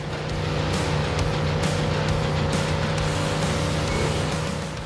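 Car racing in the video game Dying Light the Beast: a steady, loud engine drone holds throughout with constant rumble and a sustained engine tone, with no speech.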